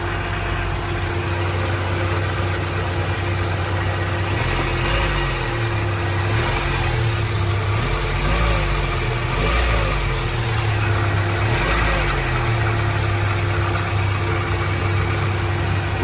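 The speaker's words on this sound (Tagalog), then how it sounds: "Matining ang andar mga boss." A Toyota Corolla big body XL with a 1.3 engine idles smoothly and steadily, a low even rumble holding for about sixteen seconds with slight wavering in pitch and no voices.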